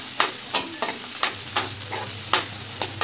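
Bitter gourd sautés in a pan over low heat, with steady rhythmic spatula stirs scraping through a continuous soft sizzle, close and moderately loud.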